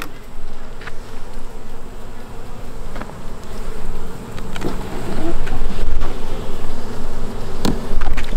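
Honey bees swarm around an open hive during a varroa mite check, a steady loud close buzzing drone that fills the whole stretch with occasional louder passes of individual bees.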